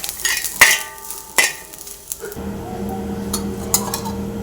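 Grated coconut being roasted in a pan, a few sharp clinks of a utensil against the pan followed by a low, steady sizzle and scraping stir.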